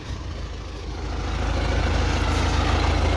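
A heavy MTZ tractor engine drones continuously nearby while pulling a disc harrow in a field, a deep, loud rumble that builds slightly in strength with no voices.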